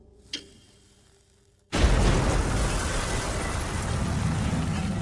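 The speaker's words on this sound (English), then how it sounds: "An explosion rips through the compound." A bomb explodes inside a conference room, a sudden loud blast after a quiet stretch with a faint tick, followed by a long, roaring rumble that barely fades.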